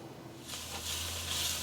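Two diced onions cooking in olive oil in a skillet over medium heat, a soft steady sizzle that swells after a quiet start and then holds, close and fairly faint.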